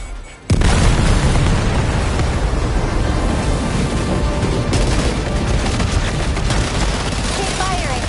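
Weapons open fire in Death Stranding 2 with a sudden loud onset, then a dense, continuous barrage of booming blasts that keeps going at full intensity.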